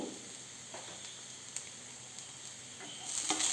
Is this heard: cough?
no